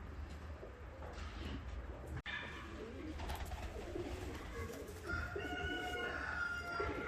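Yellow-capped Hungarian show pigeons coo in a loft, soft repeated throaty calls over a faint low background hum, with one brief knock partway through.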